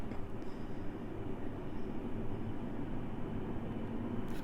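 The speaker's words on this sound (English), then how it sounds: "but that's a train." A train rumbles past at a steady distance, a continuous low roar with a faint squeal near the end.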